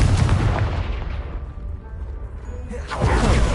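A Confringo spell blast in Hogwarts Legacy hits a pile of blocking debris, a loud explosive boom that trails into a rumbling, crumbling decay and then flares again with a second crashing burst.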